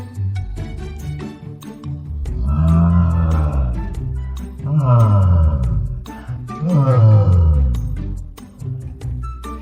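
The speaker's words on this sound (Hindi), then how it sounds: "शेर की दहाड़ने की आवाज सुनकर सभी जानवर अचानक से रुक जाते हैं और डर जाते हैं" A lion in a jungle story gives three long, loud roars one after another, each a rising-then-falling growl with strong harmonics, close and dominant over a faint background.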